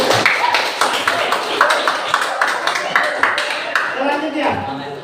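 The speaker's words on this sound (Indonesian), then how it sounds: "Beri aplaus untuk kalian." Students applaud together in a classroom, a dense, steady patter of many hands clapping for several seconds with voices mixed in underneath.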